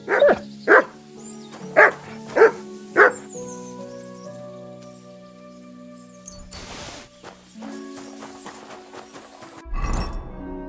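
Dog barking in the video game Kingdom Come Deliverance 2, five loud close barks in a quick run, then quieter game sounds and clatter.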